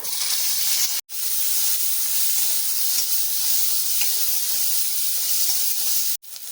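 Green chillies, chopped onion and garlic cloves go into oil left from frying fish, producing a loud continuous hissing sizzle broken by two brief silent cuts.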